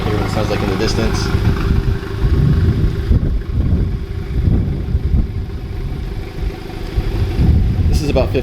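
Honda Civic Type R with a catless downpipe, front pipe and exhaust valves fully open, idling about 15 feet away: a steady, loud, low rumble that holds throughout, with people talking over it.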